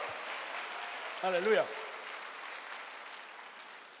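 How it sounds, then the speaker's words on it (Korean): A congregation at a Korean church Sunday service claps in praise, a steady diffuse wash of applause that runs throughout, with a single voice shouting an exclamation over it partway through. "박수 한번, 하나님께 영광의 박수!"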